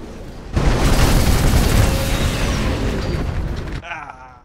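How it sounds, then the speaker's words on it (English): A dropship in the video game Titanfall bursts in a single loud, roaring explosion that swells suddenly and decays over about three seconds before cutting off. "Victory explosion."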